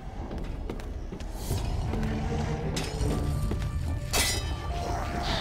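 Glass shattering in the video game Shadow Warrior, a sharp crash followed by a burst of tinkling shards amid game ambience and thuds.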